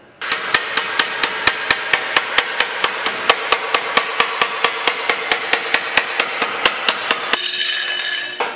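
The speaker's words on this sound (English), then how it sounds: "you grab a body hammer and you tap away to get that perfect bend" A body hammer taps sheet metal clamped down for bending during rust repair on a 1968 C10 pickup. About two dozen crisp, evenly spaced metallic strikes ring out close and loud, then stop.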